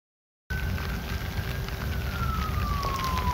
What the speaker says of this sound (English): Well, it's raining pretty good now, but that's a tent.